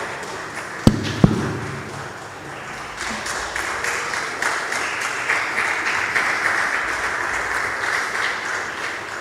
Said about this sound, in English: A round of applause as we welcome him.